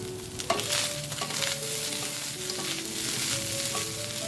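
Rice and mixed vegetables being stir-fried on high flame for chilli garlic fried rice, a loud, steady sizzle with spatulas scraping and knocking against the pan throughout, close up and without speech.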